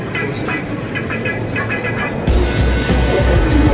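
Riding aboard a train in Japan, with a continuous interior rumble and rattle that grows louder and heavier partway through, along with faint higher tones early on.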